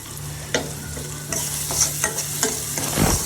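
Paneer gravy masala fries in a pan, a steady soft sizzle broken by several close scraping stirs of a spoon against the pan, with no talking.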